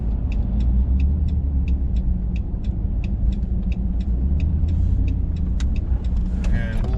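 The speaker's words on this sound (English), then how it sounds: "It's got a good exhaust sound if you get down on the throttle." A 2009 Hemi 1500 pickup with a slightly aggressive cam, driving on the road. It makes a steady, loud low engine and exhaust rumble with road noise, plus a regular light ticking throughout.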